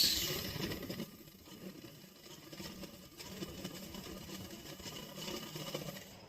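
A sewing machine runs steadily while stitching the sleeve of a kurti, a low mechanical whir with a faint rattle that holds for several seconds at close range, with no voices.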